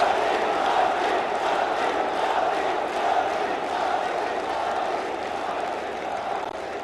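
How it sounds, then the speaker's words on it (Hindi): Large crowd at the inauguration of Shree Mahakal Lok in Ujjain welcoming Prime Minister Modi, a broad sustained roar of cheering and clapping that holds steady and eases slightly toward the end. "एक बार दोनों हाथ ऊपर उठा के तालियां बजा के स्वागत कीजिए मोदी जी का"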